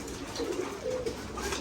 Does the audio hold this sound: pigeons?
yes